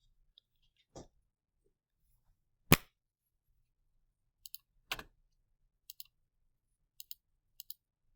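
Calculator keypad keys pressed during a classroom math lesson, a sparse string of sharp little clicks in uneven pairs and singles, close and fairly quiet, with a few louder knocks among them and no talking.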